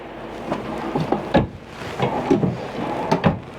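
Several wooden thumps and slides as a deep drawer in a 2024 Grand Design Momentum toy hauler is pulled open and pushed shut, with soft knocks spread over a few seconds.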